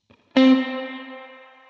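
Single electric guitar note through a Line 6 Helix dynamic plate reverb set so the highs ring on while the lows fade quickly, a sharp attack followed by a long shimmering decay, alone.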